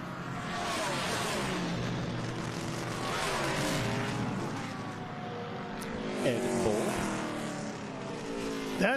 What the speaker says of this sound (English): That's actually a Busch Grand National car there, the 77.